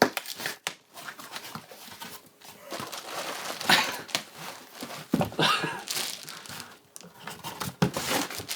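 A plastic supplement package is cut open and handled, giving close, irregular bursts of crinkling and rustling plastic with brief tearing scrapes and quiet gaps between.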